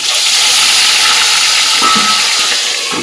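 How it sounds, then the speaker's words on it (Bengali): Fish frying in hot mustard oil in a wok, producing a loud, close, unbroken hiss and sizzle that holds steady from start to finish. "গরম হয়ে গেছে এবার মাছগুলো এক এক করে ছেড়ে দেবো"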